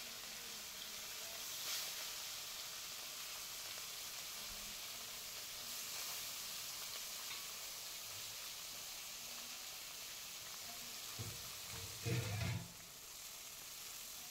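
Morla fish frying in hot mustard oil in a kadai on a gas stove, a faint, steady hissing sizzle that runs on evenly, with a few soft clinks of a utensil near the end.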